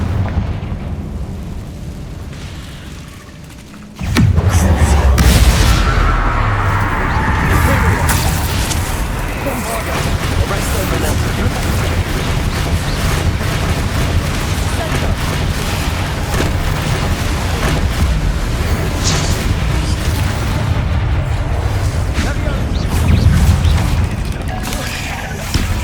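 Confringo spell blast in the video game Hogwarts Legacy: after a quiet opening comes a sudden loud boom, then a sustained dense roar of explosive combat effects that lasts to the end.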